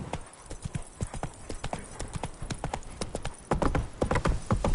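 Roach the horse gallops in Witcher 3, rapid rhythmic hoof clip-clops pounding steadily throughout and growing louder toward the end.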